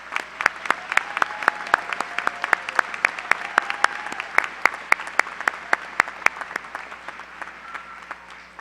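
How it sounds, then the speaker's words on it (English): Steady applause from a crowd at a spring commencement ceremony for School of Applied Studies graduates, sharp dense clapping that holds evenly for several seconds and then tapers off near the end. "Please join me in recognizing the accomplishments of these students with a special round of applause"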